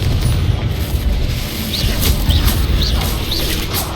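In the Hogwarts Legacy video game, a Confringo blasting spell erupts into a heavy, rumbling boom that holds across several seconds. Chirping, swooping magical tones repeat above it.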